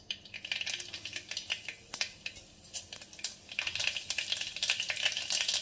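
Mustard seeds crackle in hot oil with rapid, irregular sharp pops close by, thinning briefly in the middle and then quickening again.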